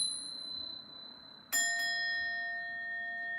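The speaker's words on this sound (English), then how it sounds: "Do you know that bells clear the air? Bells clear energy?" A single bell rung to clear energy strikes once with a bright, sharp attack partway through, after a quiet stretch holding a faint high tone, then leaves a clear ringing tone that sustains steadily to the end.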